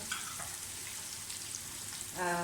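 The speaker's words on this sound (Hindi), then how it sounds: "लहसुन अदरक की अच्छी तरह से भुनाई कर लें। साथ ही इसमें सारे स्पाइसेस डाल दें।" Garlic and ginger sizzling in a pan with spices added for a phaliyan (green bean) dish, a steady close frying hiss throughout that grows briefly louder near the end.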